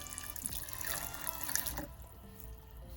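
Boiled broth pours steadily into a bowl for a couple of seconds, close and moderately loud, then fades to quiet background hiss.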